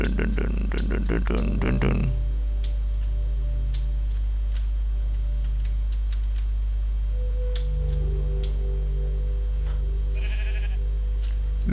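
A sheep bleats briefly at the start in the Minecraft modpack Namelesscraft, followed by a steady low hum and scattered small ticks.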